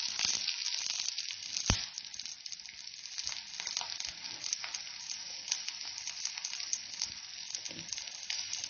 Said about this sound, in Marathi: लसूण आणि जिरे असं आपण छान परतून घेणार आहोत.